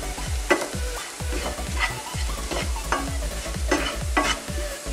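Chili powder and black pepper roasting in a pan are stirred steadily, a spoon scraping in a regular rhythm over a soft continuous sizzle, close and alone, while a Kerala-style squid roast is cooked.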